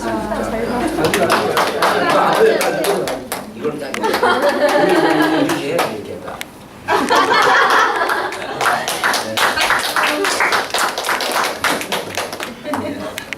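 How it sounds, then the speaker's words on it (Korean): A church congregation at a Sunday worship service claps in a sustained, lively round, with sharp individual claps standing out over the crowd while people chatter and talk over it throughout. "박수"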